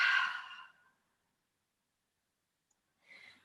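A strong breathy exhale during a yoga breathing exercise, audible at the start and fading within a second, followed by silence and a second softer breath near the end.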